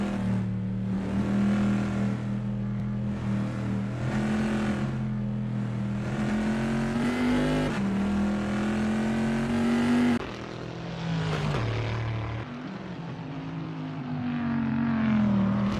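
An ACL GTC Bizzarini GT 5300 Casa race car in a video game, driving through Ravazza at Imola. A loud engine climbs in pitch through the gears, drops on a shift and lifts again, close and sustained.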